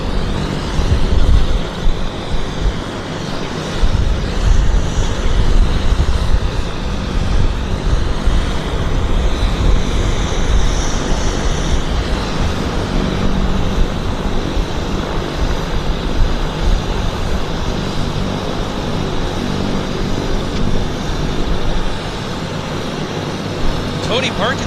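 Airliner taking off at Vancouver Airport, a steady broad jet roar that holds loud for the whole stretch with slight shifts in pitch, heard from outdoors nearby.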